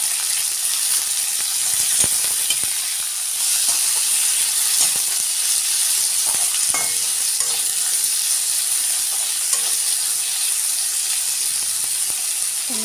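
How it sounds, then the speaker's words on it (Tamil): Onions, green chilies and curry leaves sauté for tomato soup, giving a steady, close sizzle and hiss with occasional clicks and scrapes of stirring, with no voices. "வெங்காயம், பச்சை மிளகாய், கருவேப்பிலை போட்டு நல்லா வதக்கணும்."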